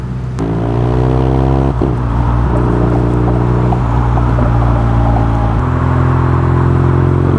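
A motorcycle engine runs loud and close while riding on the road, a steady droning hum with shifting pitch as it revs up and settles, continuous for several seconds without speech.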